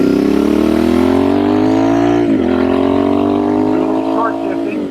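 A Royal Enfield Bear 650 motorcycle with a high-mounted shotgun exhaust revs steadily upward in pitch, dips briefly as it shifts gear, then climbs again, loud and close.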